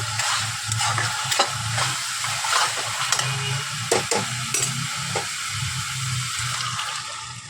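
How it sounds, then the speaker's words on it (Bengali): Whole spices sizzle and fry in hot oil in a home kitchen pan before chana dal goes in, a steady close crackle broken by scraping stirs of a spoon, with no talking. "মশলাটা দিয়ে দিয়েছি তেল ছেড়ে এসেছে এবার ছোলা ডালটা দিয়ে দেবো"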